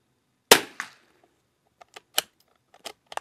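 A single shot from a 22LR rimfire rifle firing new LAX 40-grain ammunition, a sharp close crack with a quick echo, followed by faint clicks and handling taps.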